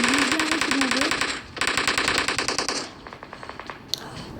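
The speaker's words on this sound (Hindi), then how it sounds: "गोलियाँ स्टार्ट हो चुकी हैं।" Automatic gunfire in the mobile shooter PUBG Mobile, loud rapid bursts with a short gap, followed by quieter trailing shots and a sharp single crack near the end.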